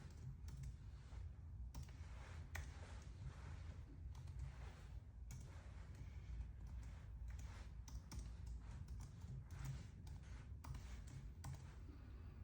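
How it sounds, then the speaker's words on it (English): Password typed on a computer keyboard, a steady run of close, crisp key taps in irregular rhythm lasting throughout, quiet but clear with no voices. "type in my password one more time"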